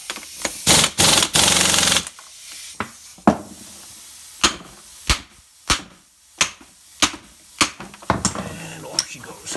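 Hammer blows on a Ford Bronco steering box, a string of sharp metallic impacts at uneven intervals, with a dense burst of clanks early on followed by single loud whacks spaced through the rest.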